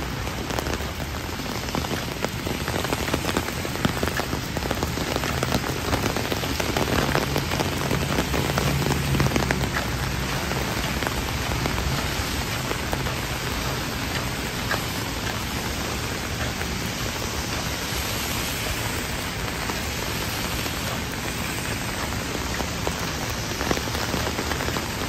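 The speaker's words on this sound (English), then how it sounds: "It's a very pleasant rain, except those thunder and lightning." Steady rain falls on a Midtown Manhattan street in New York City during a thunderstorm, a dense, even hiss of drops on pavement that holds constant for the whole stretch with no voices.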